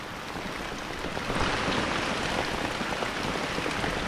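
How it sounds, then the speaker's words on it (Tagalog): Heavy rain pours steadily during a harvest, a dense hiss of drops pounding a nearby shelter, growing slightly louder partway through and holding strong to the end. "Yan, lakas po ng ulan yan."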